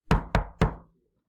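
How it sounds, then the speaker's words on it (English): Three firm knocks on a door in a read-aloud children's story, sharp and close, evenly spaced with a brief ring after each, then silence. "he heard the big bad shark knocking at the door"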